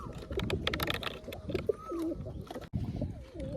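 Domestic pigeons kept in a loft coo in low, rolling calls, several birds overlapping close by, with a brief break near the end before the cooing resumes.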